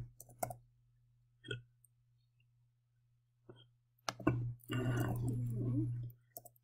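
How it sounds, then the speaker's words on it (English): Keys clicking on a computer keyboard, including the enter key, a few sharp isolated taps spaced apart, followed by a brief louder rustle of activity. "let's click enter"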